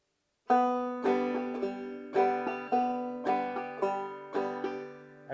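A clawhammer banjo plays a frailing strum on the second and third strings, with about nine bright, ringing chord strokes in an even rhythm, each decaying before the next, close and clear.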